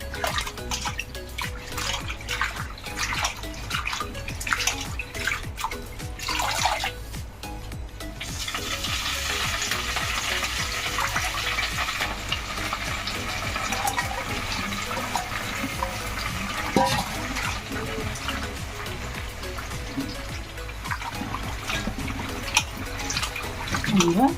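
Gongura leaves being washed by hand in water to rinse out sand, a steady splashing and sloshing that runs the full length with a louder wash in the middle section.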